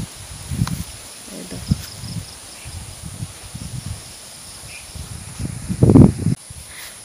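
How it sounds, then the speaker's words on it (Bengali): Outdoor wind blows on a cloudy morning in gusts that buffet and rustle close to the microphone, rising to a stronger surge near the end, while a voice speaks briefly. "এই দেখো না কি হাওয়া দিচ্ছে"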